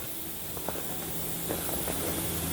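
Steady loud hiss of a fog machine spraying fog at a facade, continuous and broadband, with faint scattered clicks and knocks beneath it.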